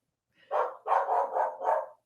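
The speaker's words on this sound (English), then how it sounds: "That's my dog." A dog barks five times in quick succession indoors, moderately loud and close, with no talking over it.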